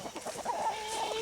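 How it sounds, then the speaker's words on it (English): Chickens cluck and chatter all around at close range in a farmyard at morning feeding time, a steady busy flock sound with no talking. "I'm surrounded by chickens right now."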